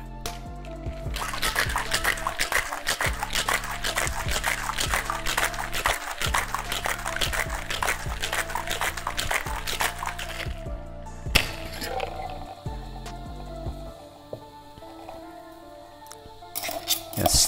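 A calamansi cocktail rattles with ice in a shaker, a rapid steady shaking that runs for about ten seconds over low background music, then stops.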